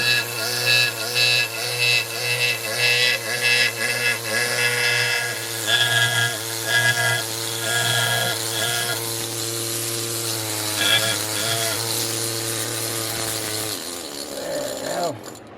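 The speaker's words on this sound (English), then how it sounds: "I'll take that block down with my big chisel tipped air scribe" A big chisel-tipped air scribe chips rock from a block holding a fossil horseshoe crab, a steady, loud pneumatic buzz with harsh rapid chatter that runs nearly the whole time before cutting off near the end.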